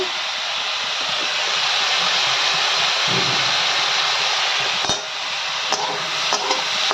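Mutton masala cooking in a pan with a broad, even sizzle and hiss, broken by a few scrapes and knocks as it is stirred. Close and moderately loud, with no speech.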